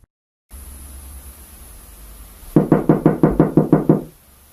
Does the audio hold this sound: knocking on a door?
yes